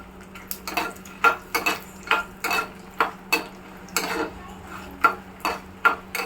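Seven or eight dried red chillies are stirred in a hot pan for a buttermilk tempering. A spatula clicks and scrapes against the pan in a steady, uneven rhythm over a faint background hum.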